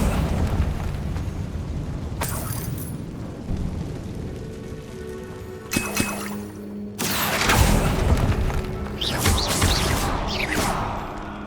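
A Confringo fire spell cast in Hogwarts Legacy bursts with loud whooshing, crackling blasts, the biggest eruption coming near the end amid rumbling in-game ambience.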